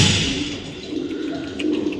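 A dove from Sabang coos softly amid steady background noise, the calls faint and blended into a busy outdoor ambience with no speech.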